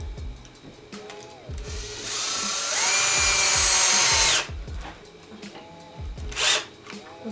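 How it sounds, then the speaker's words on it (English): Power drill driving a screw into a wooden plate for a DIY planter, a rising whine that holds steady for about two seconds and then stops, set among clattery handling sounds and short tool blips. "I will now be screwing it in"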